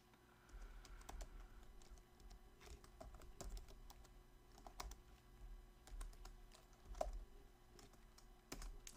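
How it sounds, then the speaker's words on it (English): Quiet, irregular keystrokes clatter on a computer keyboard while someone enters text, with scattered taps and brief pauses between bursts. "I'm just typing in anything right now"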